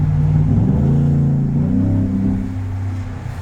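A truck's engine while driving, heard loud and near from inside. The engine note climbs and settles as the vehicle accelerates, with no talk over it.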